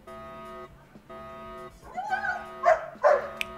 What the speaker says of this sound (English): Oh, there goes dog bark bark.